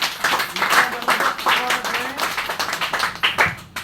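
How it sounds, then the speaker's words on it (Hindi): Group applause at a wellness product training session, a dense, steady crowd clapping that keeps going throughout at moderate loudness, with voices mixed in. "इसके लिए एक जोरदार ताली।"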